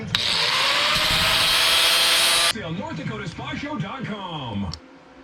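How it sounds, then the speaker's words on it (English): A power tool bevels the edge of a piece of old steel, a loud, steady grinding whine for about two and a half seconds that stops abruptly, followed by a person talking. "Let's put a bevel on this one too"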